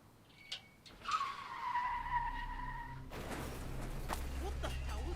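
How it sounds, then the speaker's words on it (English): A car skids with a long tire squeal in the horror video game Alan Wake 2, followed by a lower rumble and scattered thuds, heard at a moderate distance over a quiet ambient hum. "It was a car. Sounds like it crashed."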